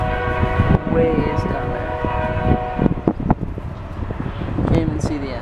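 A long freight train in Arizona sounds a sustained horn chord, then rumbles and clanks past close by amid wind, while people talk over it.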